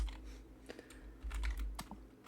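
Someone types on a computer keyboard with faulty keys in a stream of the game Scum, a quick irregular run of clicks and taps close up, with no voices.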